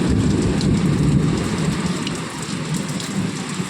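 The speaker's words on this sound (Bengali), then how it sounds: "দেখছো কেমন নড়ছে তাহলে বুঝতেই পারছো কেমন ঝড় হচ্ছে আর এই যে বৃষ্টি দেখো" Heavy rain pours through a windy night thunderstorm, a loud, steady wash of drops beating on surfaces with a low thunder rumble rolling underneath, and no voices.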